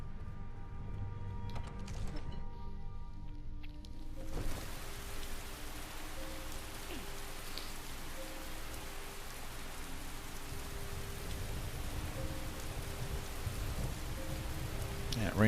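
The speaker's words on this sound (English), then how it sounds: "rain effect does sound like it's a little bit loud" Steady rain hisses evenly in the video game Skyrim, with a brief different ambience at first. Then a dense, constant downpour settles in at moderate loudness, with faint low rumbles underneath.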